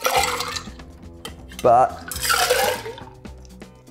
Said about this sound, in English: We just roll this between the glass rather than shake it and potentially over dilute it.